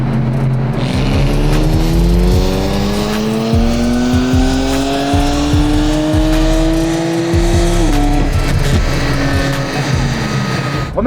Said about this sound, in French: À 2000 tours, elle patine.